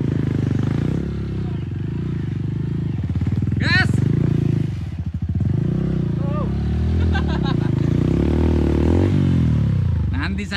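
Harley-Davidson motorcycles rumble and rev on a dirt trail in Surabaya, a loud, close, throbbing engine with repeated throttle surges, clattering, scraping and scattered voices around it.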